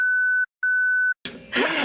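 Two loud, pure censor bleeps cover speech, separated by a short gap, then a burst of voice and breathy noise follows without any bleep.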